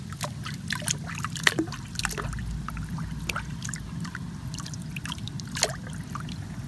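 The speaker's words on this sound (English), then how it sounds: "water just kind of drip off fingernails in the sun like that." Scattered water drips and small splashes patter irregularly over a steady low background hum, close and fairly soft.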